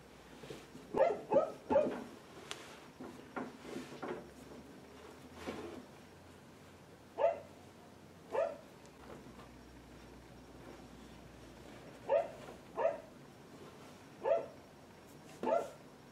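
A dog barks in short, sharp single and double bursts spread irregularly across the stretch, at moderate distance in an otherwise quiet room.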